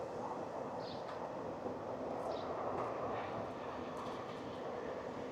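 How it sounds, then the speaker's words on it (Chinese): A freight train rumbles past near an old street in Zhaoling, a steady, broad roar with rattling wagons and faint high squeals, sustained and moderately close throughout. "你看周边还有托运货物的火车时常从这边经过"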